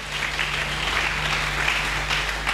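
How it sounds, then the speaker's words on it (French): A church congregation clapping during a sermon, a steady, dense wash of applause that holds at an even level from start to finish, with a faint electrical hum beneath. "Acclamons très fort."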